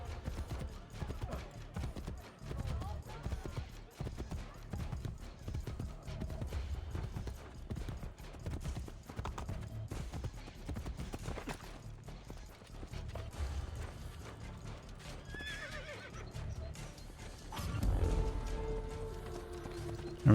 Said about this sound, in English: Come on, horse. Can you run any faster, please?